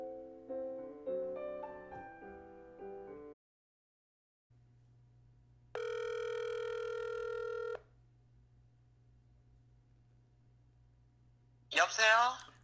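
A telephone call goes through: tones play first, then a long low steady line tone, with a louder ringback burst in the middle, before a voice briefly answers at the end.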